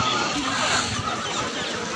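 Local chickens clucking at a rural weekly market in Dimakuchi: a few short clucks from nearby hens amid a busy, noisy market hubbub, brief and moderately loud.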